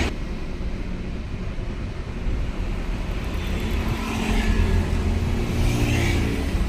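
A car engine starts during a driving lesson and then settles into a low, steady idle that swells gradually louder, with no voices.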